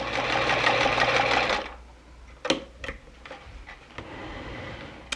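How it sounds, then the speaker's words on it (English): A sewing machine stitching a fabric strip for a jelly tote runs in a steady, loud, fast mechanical whir, then stops, followed by scattered clicks and small handling knocks nearby. "I'm ready to take that to the sewing machine"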